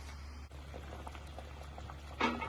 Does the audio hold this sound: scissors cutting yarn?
no